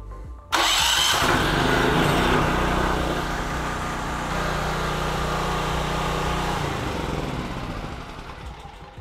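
A portable generator, such as a Westinghouse, Duromax or Genmax model, started by an auto generator start box tied to a Victron system, cranks and catches, then settles into a loud, steady engine drone nearby.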